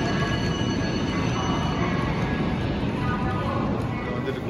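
Continuous rushing rumble of a Chinese high-speed bullet train arriving close by, broad and steady for several seconds, with faint high metallic tones above.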